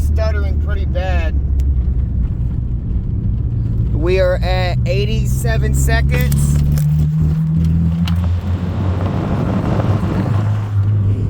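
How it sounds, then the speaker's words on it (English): A misfiring turbocharged all-wheel-drive car engine stutters and struggles to build boost, giving a steady, loud drone from inside the car while someone talks over it. "right now at 80 seconds, the car's stuttering pretty bad."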